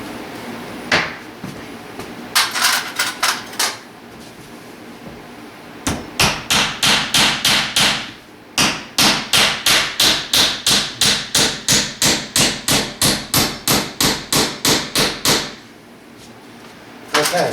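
Hammer tapping nails to tack trim onto a fire rated door, bursts of sharp close blows, a few scattered strikes then a long rapid even run of hits with short pauses.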